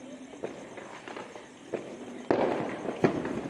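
Several sharp Diwali firecracker bangs burst out at irregular intervals over a crackling outdoor background, the loudest near the end, with faint voices around.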